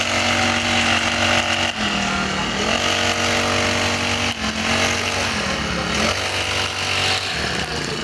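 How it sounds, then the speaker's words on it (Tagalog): A grass cutter engine drones steadily while an operator cuts grass in a yard, the motor loud and close with slight dips in pitch as the load changes. "Yung operator ang hawak ngayon ay grass cutter."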